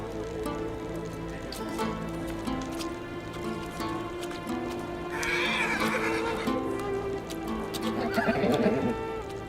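A mare whinnies and neighs near at hand amid hooves clip-clopping, the calls rising loudly twice over a steady mix of stamping and movement.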